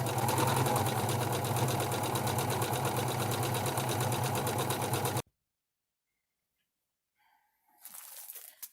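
Sewing machine stitching fabric with a standard zigzag presser foot while making a 1940s apron, a steady loud rapid run for about five seconds, then stopping, followed by silence and a brief rustle near the end.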